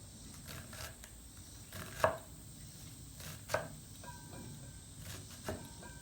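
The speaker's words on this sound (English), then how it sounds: "I'm going to go ahead and just run my knife right through it again" A sharp knife cuts through onion on a cutting board, giving a few distinct chops spread out over several seconds against a quiet background with a faint high hum.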